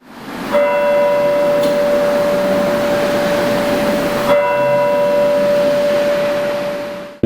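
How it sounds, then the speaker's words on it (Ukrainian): The hourly chime of the Terebovlia town hall clock in Ukraine rings as a sustained resonant tone, struck again partway through, over a broad wash of outdoor background noise. "Тепер щогодини у місті чути бій курантів."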